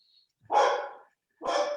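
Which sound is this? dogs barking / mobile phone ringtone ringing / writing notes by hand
dogs barking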